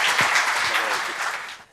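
A burst of applause from a conference audience after a talk, dense clapping that rises and then fades out near the end.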